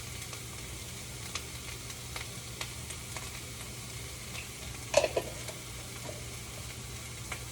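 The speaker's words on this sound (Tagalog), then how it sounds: "ginisa-gisa ko lang yung sibuyas. Tsaka yung ground beef" Onion and ground beef sauté in a pan, a quiet, steady sizzle broken by a few soft stirring clicks and a brief louder clatter partway through.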